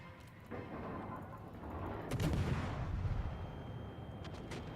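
Naval guns fire from a warship in World of Warships: a single heavy, booming salvo lands midway through, with a rumbling tail that fades into a steady background of engine and sea noise.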